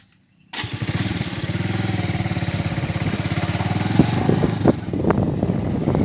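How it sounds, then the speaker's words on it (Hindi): A motorcycle rides along a scenic road toward greenery and waterfalls. Its engine kicks in abruptly after a moment of silence, then holds a steady, close, pulsing drone with a few sharp knocks and bumps. "अभी मैं बाइक से जा रहा हूँ और रास्ते की खूबसूरती आप देखते जाइए।"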